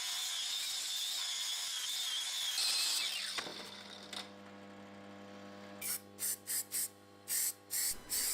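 Aerosol can of filler primer spraying onto an axe head, a steady close hiss for about three seconds, then a can rattle and a few short spray bursts, with no talking.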